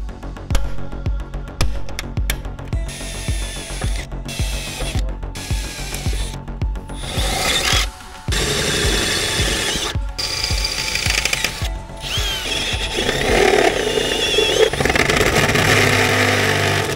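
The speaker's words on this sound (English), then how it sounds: "use our center punch and punch into the firewall so I know where my center holes are" Sharp metallic taps of a center punch on a steel car firewall and bursts of power-tool drilling into it, close by, with short pauses between runs and a grinding whir toward the end.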